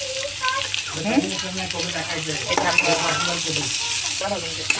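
Shredded cabbage stir-frying in a pan: a steady, close sizzle with repeated spatula scrapes and stirring, and a voice faintly underneath.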